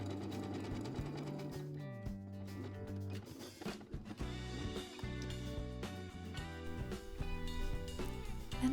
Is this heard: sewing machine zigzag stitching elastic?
yes